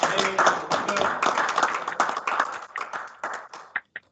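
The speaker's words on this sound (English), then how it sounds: "it's time for you to give your encouragement with a round of applause" Members at a Lions club meeting applaud newly installed officers, a brisk burst of many hands clapping with voices mixed in, thinning into a few scattered final claps at the end.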